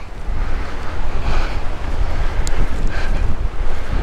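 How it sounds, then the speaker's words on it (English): Strong wind off Lake Texoma at the Preston Bend Recreation Area buffets the microphone, giving a loud continuous rumbling roar with gusty swells and no voices. "there's a lot of wind coming off the lake"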